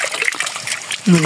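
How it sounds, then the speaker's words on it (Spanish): River water rushes and trickles beneath stones, a steady close wash of splashing that runs the whole time, with a person speaking briefly over it. "todo el agua pasa por debajo de las piedras"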